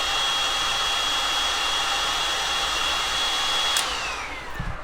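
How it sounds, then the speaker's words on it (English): A heat gun blows a steady, loud whooshing roar as it warms Woodubend moldable wood trim, running continuously at close range and then easing off and winding down near the end. "I'm going to hit this again with my heat gun"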